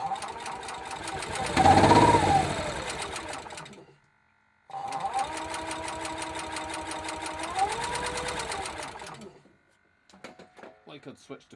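A small generator engine with Arduino throttle control starts with a loud buzzing clatter, cuts out for a moment, then restarts and runs steadily with a shifting pitch before stopping, followed by faint ticking.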